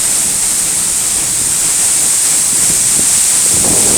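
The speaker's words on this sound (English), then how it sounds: "Right, top of the waterfall. Falling straight down beside me." The fast-falling Eas Mor waterfall roars in a dense, constant hiss close by, mixed with gusting wind buffeting the microphone, with no voices.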